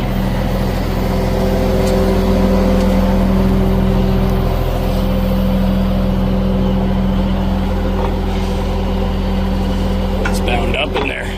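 The winch on a 2008 Ledwell trailer runs with a steady, loud mechanical hum and drone that continues throughout, with a few faint clanks near the end.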